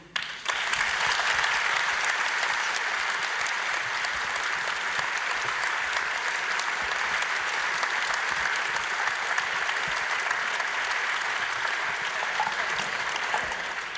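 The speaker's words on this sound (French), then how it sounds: "Je crois qu'on peut vous applaudir." Sustained applause from a studio audience after a televised panel discussion on faith, a dense steady wash of many hands clapping at even loudness for the full length, with no voices over it.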